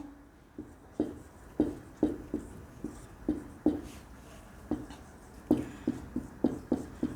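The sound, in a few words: teacher writing a Sanskrit sutra on the board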